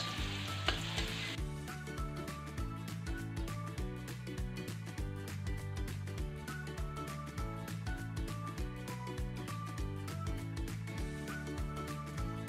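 Garlic sizzles in hot oil in a pan as the first step of sautéed sweet potato tops with okra, a brief loud burst of frying that then sits under steady rhythmic background music.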